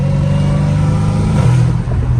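A straight-piped Dodge Hellcat Redeye engine roars loud and close under throttle with the tires slipping, its deep droning note steady and then shifting pitch briefly near the end.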